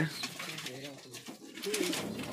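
Mukki pigeons for sale give a few soft, low coos at close range, with someone talking over the flock and the murmur of a busy yard.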